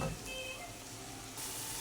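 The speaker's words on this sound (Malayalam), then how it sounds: "നമുക്ക് അരി അങ്ങ് ഇടാം" Rice for ghee rice is tipped into a hot pan and crackles in the fat, a very faint, short sizzle with a brief stir, alone without voices.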